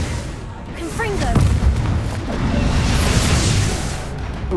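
Confringo fire spell being cast in the Hogwarts Legacy video game, a loud booming blast layered with crackling impact debris and rumble, sustained across a busy battle mix with voices over it.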